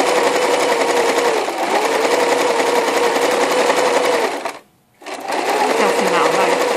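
An Elgin Genius sewing machine stitches fast at tension setting 4, a loud steady whirring drone running almost continuously, with one brief stop near the end before it starts up again.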